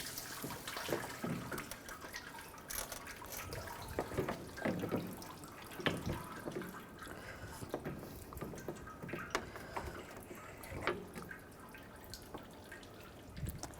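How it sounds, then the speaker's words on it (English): Coolant trickles and drips out of a 2007-2013 Mini Cooper radiator as it is lifted out, making faint, irregular splashes and drips close by over about fourteen seconds. "Might lose a little coolant."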